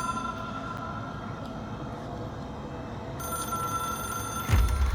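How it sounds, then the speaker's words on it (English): An old-style telephone bell rings in the video game Control, a steady metallic trill sustained over a low hum, fairly quiet and with no talk, ending in a brief thump. "It is a phone."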